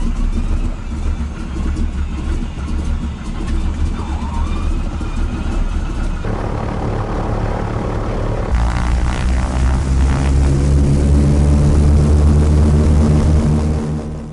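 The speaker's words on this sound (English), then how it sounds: "the roar of the right engine, just a few feet outside my open window" The engine of a crop-duster airplane roars loud and close just outside an open window, a steady propeller drone that deepens and grows heavier partway through as power rises, with no talk.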